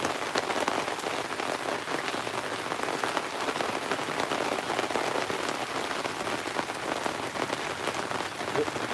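Heavy rain pours down steadily outside a cabin during a gold-sluicing session, a dense, even hiss of drops hammering surfaces that stays constant and fairly close, with no talk.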